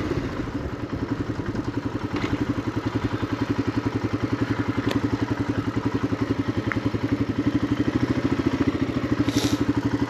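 A Royal Enfield Himalayan motorcycle rides toward a ski resort on Scaly Mountain near Highlands, NC, its single-cylinder engine thumping in an even, rapid rhythm that runs steady and close throughout, with faint wind and no voices.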